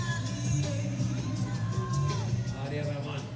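A crowd at the men's lead final of the 2012 IFSC Climbing World Cup in Briançon cheers, yells and whoops in a steady, dense roar, with a commentator talking over it.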